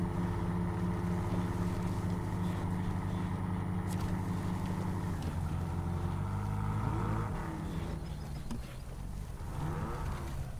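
An All American AA 17 truck engine in SnowRunner drones steadily at low pitch, then its tone shifts and wavers as revs change toward the end, with no talk.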